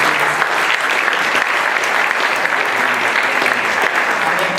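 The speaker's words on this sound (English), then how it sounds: "So if we can give Renee a round of applause." A conference audience at a youth anti-violence event gives a loud, sustained round of applause, dense overlapping clapping that holds steady throughout.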